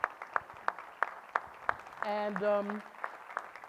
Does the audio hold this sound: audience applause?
yes